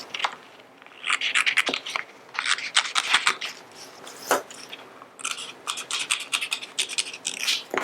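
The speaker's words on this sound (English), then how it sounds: "And I'm going to cut that out." Scissors snip around a paper journal cover, a run of close, crisp cuts and rustling paper in irregular bursts, with no talking.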